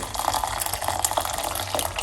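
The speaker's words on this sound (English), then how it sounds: "we're going to put 1 cup of hot water inside of the pot" Hot water being poured into a cooking pot for cucumber tea with dried lime, a steady close splash and trickle of liquid filling the pot, continuous with no talking.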